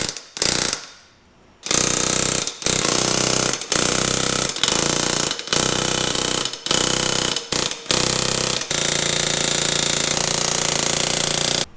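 Valve guides being driven into a Buick 340 cylinder head, with loud, rapid repeated hammering in bursts separated by short pauses, close and steady for most of the stretch.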